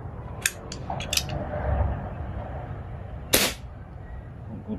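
An Armscor V45 CO2 airgun fires weakly, giving a few faint clicks and one sharper snap against a low background rumble.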